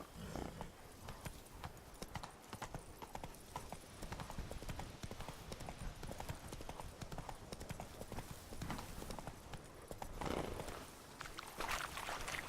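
Horse hooves clip-clop steadily at a walking rhythm in The Witcher 3 video game, quiet and continuous, with a faint voice briefly in the background.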